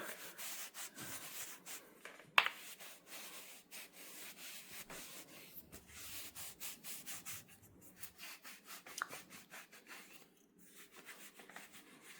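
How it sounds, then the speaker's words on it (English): A rag polishes a lathe-turned piece, giving soft, quiet rhythmic rubbing strokes in steady repeated swipes, with one sharp click partway through. "This is the rag we've used to polish it up."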